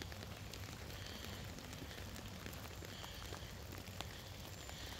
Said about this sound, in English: You can hear the rain, but the sun's out as well.